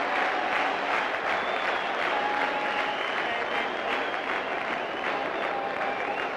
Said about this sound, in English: that's 5 sixes now, and the crowd loves it